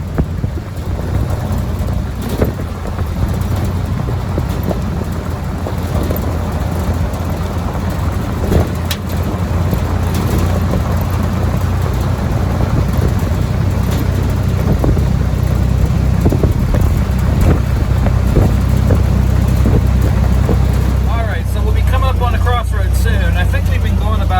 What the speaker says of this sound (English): this is the kind of road you just throw her in second gear and leave it there and just putt right along